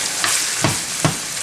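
Ground beef and mixed vegetables sauté in a pan for Guyanese beef patty filling, giving a steady close sizzle with two soft scraping stirs.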